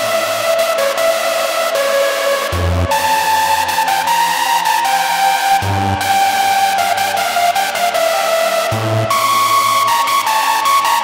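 A hardstyle lead synth stack drenched in delay and reverb plays a dense, bright chord pattern over a steady beat, with short gaps every few seconds where a low bass hit comes through, loud and continuous.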